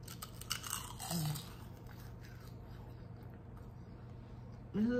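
Homemade kale chips seasoned with garlic salt being chewed up close, crisp crunching bites early on, then quieter chewing, with a brief voice near the end.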